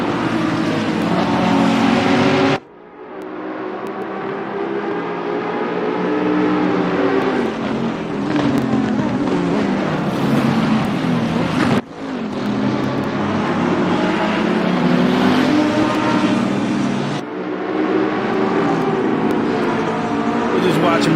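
Race car engines from the Assetto Corsa Competizione racing game roar loudly and continuously across a lap, with pitch rising through gears and sharp drops at shifts, and a voice talking over the engine throughout.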